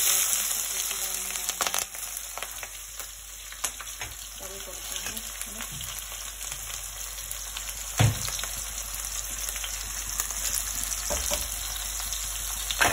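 Cooked dal and tomato fry in a pan with a continuous, even sizzle and crackle nearby, broken by occasional stirring scrapes and soft knocks.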